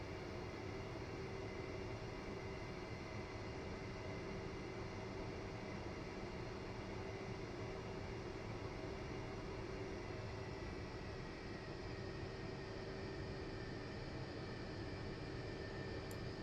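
F/A-18C jet engine in the DCS flight simulator, taxiing at low throttle with a steady broadband roar and a constant tonal whine, loud and unbroken throughout.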